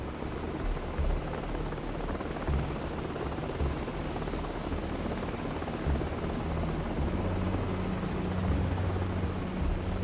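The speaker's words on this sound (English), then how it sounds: "Helicopter. Spotlight," Helicopter in the video game Call of Duty 4: Modern Warfare, on a night mission with a spotlight. A loud, continuous rotor thrum and engine whine hold steady throughout, with no talk.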